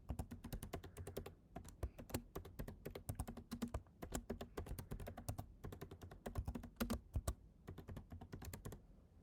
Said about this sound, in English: we are going to type in the destination